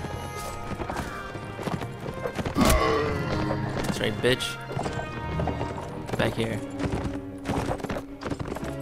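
Horse hooves clatter in a cavalry battle in the video game Mount & Blade Warband, a steady clip-clop of galloping under game music and combat noise, with someone talking over it.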